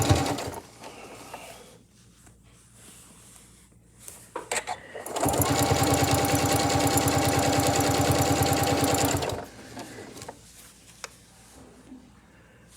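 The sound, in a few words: sewing machine stitching binding, a couple of back stitches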